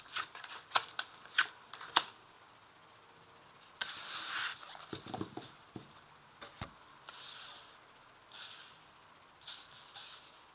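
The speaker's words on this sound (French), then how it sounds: "je vais placer les 5 cartes pour regarder les grandes lignes de ce tirage" Tarot cards laid out one by one on a table, with quick crisp taps and flicks followed by softer sliding and rubbing swishes of the cards, fairly close and with no talking.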